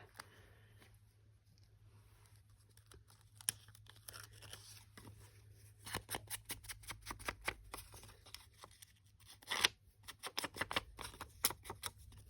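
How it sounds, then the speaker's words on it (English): Old, brittle paper is torn from a book for a collage, faint close rips and crackles building into a denser series of short tearing and crinkling bursts, quiet overall with a low hum underneath. "I'm going to tear it off because I want to see the math, obviously."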